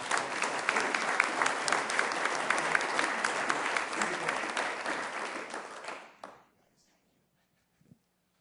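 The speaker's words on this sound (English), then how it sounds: "And let's give them a round of applause" Audience at a Sioux Falls city council meeting applauds steadily for about six seconds, a dense broadband clatter of clapping that stops abruptly, followed by near silence and one faint thump.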